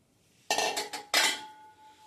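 Amaranth (rajgira) seeds tipped into a kadhai for roasting, two bursts of rattling grains against metal followed by a lingering faint ring from the pan.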